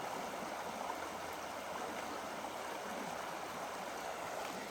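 Barlow Creek flows past a free dispersed backcountry campsite, a steady, close rushing of water that stays even and unbroken throughout, with no voices.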